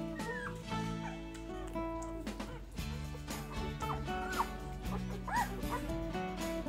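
Three-day-old newborn puppies nursing in a litter let out soft whimpers and small yips over steady background music, with no talking.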